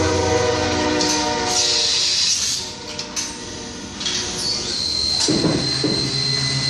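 A steady, loud grinding whine of a milling machine taking the burr off a metal paintball part, with high metallic squealing tones that shift pitch partway through.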